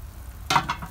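Cow skin and cow head soup boiling in a pot over an outdoor coal pot. It starts with a low murmur, then bursts of close bubbling and sizzle break in about halfway through and pulse unevenly.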